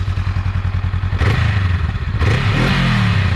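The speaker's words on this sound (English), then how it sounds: "let's start it up. By the way, this is not a cold start. It's been started a while ago. I'm gonna give it a couple revs." A warm 2022 Honda Rebel 500 on its stock exhaust idles with a steady low thrum, then gets two quick throttle blips that rise and fall, close and fairly muted, with no talking.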